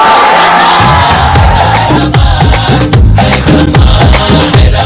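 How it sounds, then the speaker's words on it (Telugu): A studio audience at a Telugu TV comedy show cheers and whoops loudly, in a continuous roar of crowd voices that lasts throughout. "ఓకే సూపర్, గట్టిగా క్లాప్స్ వస్తుంది"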